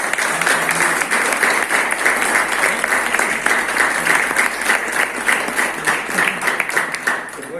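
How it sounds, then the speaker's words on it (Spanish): A church congregation breaks into strong applause to welcome a visiting brother, many hands clapping in a sustained, even wash that thins slightly toward the end, with faint voices mixed in. "recibámosle con un fuerte aplauso"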